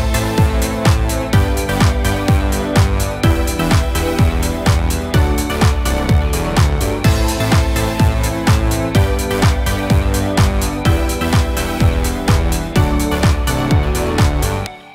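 A steady electronic music loop with repeating chords and a regular beat, looping evenly throughout without any arpeggiated pattern.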